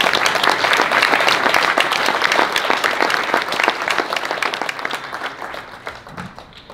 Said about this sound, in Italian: un applauso al signor Milano,